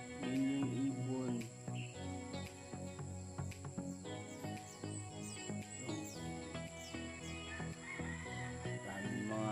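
Wild birds call repeatedly in a Philippine backyard, sharp caw-like cries scattered among a steady insect drone and other outdoor noise.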